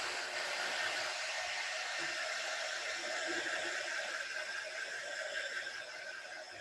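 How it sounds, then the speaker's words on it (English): A heat gun blows a steady, close, even rush of hot air over drawing ink, holding constant and easing slightly at the end. "we're going to dry them again with our heat gun"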